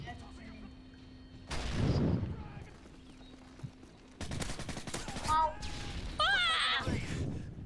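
Bursts of rapid P90 submachine gun fire crackle in Modern Warfare 3, loud clustered volleys with gaps between them and other game effects, while players talk over the action.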